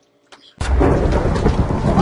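Thunderstorm power effect in a video game: after a brief faint tap, a loud, broad rumbling crash bursts in and roars on steadily to the end.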